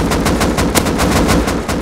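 Rapid automatic gunfire in the game Rust rattles nonstop, loud and close, a steady stream of shots with no pauses.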